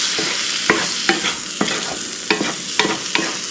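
Sandwich filling sizzles in a hot pan as a utensil stirs it, steady frying hiss punctuated by regular scraping knocks, close up with no talking.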